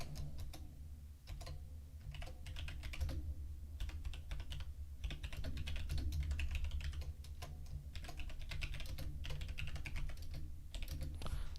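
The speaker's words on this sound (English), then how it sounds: "If I get quiet, it's because I'm typing." Steady typing on a computer keyboard, a quiet run of rapid light key clicks with brief pauses, heard close and alone at low level.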